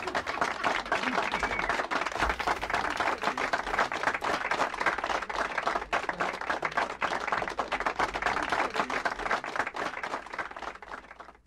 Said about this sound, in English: Let's get some laughter and clapping to take some time.